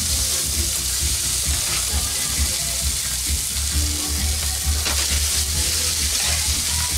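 Mashed potatoes frying in a pan, a loud, continuous close sizzle with faint crackles and occasional scraping, no talking.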